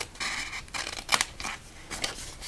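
Scissors snip a V-shaped notch into cardstock for a shoebox gift card holder craft project, a series of several short, crisp cuts close by with brief pauses between them, no talking.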